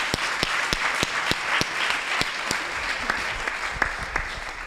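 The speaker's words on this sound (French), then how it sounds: "Je vous propose d'applaudir nos trois speakers." Audience at a round-table talk on data and AI in HR applauds three speakers with sustained dense clapping, plus a few louder individual claps standing out in a fairly regular pattern.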